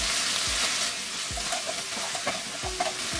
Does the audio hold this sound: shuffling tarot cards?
no